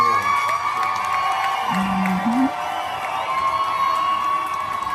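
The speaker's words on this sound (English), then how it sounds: "They stood up and they were cheering." An assembled crowd cheers and whoops after the announced result of a secret-ballot election. The noise is a loud, continuous roar of many voices with shouts rising above it.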